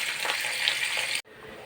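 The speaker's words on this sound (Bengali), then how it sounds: "আর এদিকে কুমড়ো ভাজা চাপিয়ে দিয়েছি" Pumpkin slices frying in a pan, a dense close sizzle that runs evenly and then cuts off abruptly, leaving a faint hiss.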